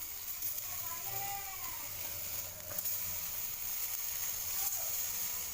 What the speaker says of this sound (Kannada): ಎಲ್ಲನೂ ಇದೇ ರೀತಿ ಶಾಲು ಫ್ರೈ ಮಾಡಿ